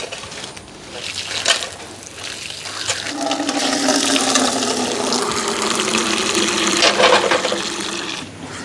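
Water pouring steadily onto the soil around a newly planted garden plant, a continuous splashing gush for several seconds, close and fairly loud.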